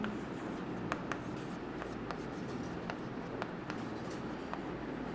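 Pen writing a chemical name on a surface, steady soft scratching strokes with small ticks as letters are formed, close and quiet over room noise.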